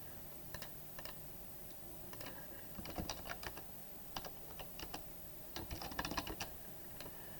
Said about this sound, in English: when you type in your values